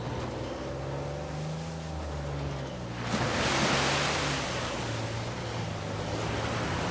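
Waterfall in the video game Uncharted 4, a broad continuous rushing roar of falling water that swells louder midway, with a low engine-like hum and faint tones underneath.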